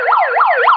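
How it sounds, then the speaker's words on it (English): A rapid wailing siren sound effect sweeps up and down in quick, regular cycles, loud and close with nothing else audible. "I got to put a siren on for this one."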